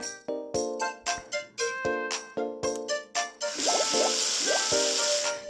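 A dog drinking water in the 3DS video game Demo Friend, heard as a run of short, bright, rhythmic lapping blips followed by a steadier splashing wash of liquid, close and clear with no talk.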